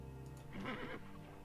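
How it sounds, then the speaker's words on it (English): A short horse whinny in the video game EO Origins RPG rises briefly over a quiet musical background, sounding synthetic and game-like, with no talking. "Oh, I do have a horse here."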